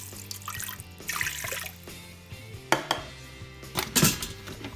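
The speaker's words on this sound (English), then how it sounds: "now add some water" Water is poured into an Instant Pot holding eggs, a gentle trickling and splashing with light clinks of metal and dishes, close and fairly quiet.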